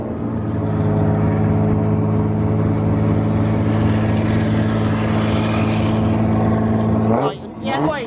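Cold car engine revved and held at high rpm, a loud, steady droning rev that lasts about seven seconds and then drops sharply, with brief talk near the end.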